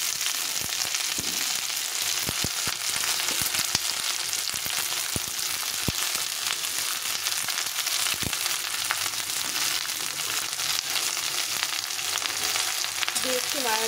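Vegetables including cauliflower sizzle steadily in a hot pan, with scattered scraping clicks as they are stirred. Constant, fairly loud frying noise throughout, no voices.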